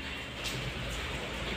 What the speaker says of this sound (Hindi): ये देखो, बारिश हो रही है